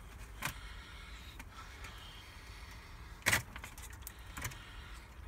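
Keys jangle in a few brief, sharp metallic bursts, one louder than the rest, against a quiet background during car repairs, with no talking.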